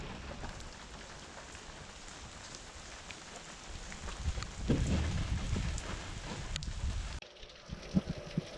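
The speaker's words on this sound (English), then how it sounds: "Rain just swept in." Steady rain hisses across the whole stretch, swelling louder midway, with a low rumble underneath and a few sharp knocks near the end, in Kamianets-Podilskyi, Ukraine.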